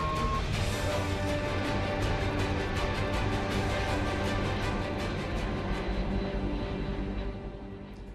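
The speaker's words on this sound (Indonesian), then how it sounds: "pesawat terbang mengambil posisi menukik tajam" A dense, steady roar from an Airbus aircraft in a steep dive during a parabolic research flight, loud and continuous, easing slightly toward the end.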